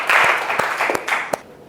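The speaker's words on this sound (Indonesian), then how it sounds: "Tepuk tangan untuk dia." Short burst of applause from a classroom audience during a lesson: a brief wash of clapping with a few sharper claps standing out, fading away after about a second and a half.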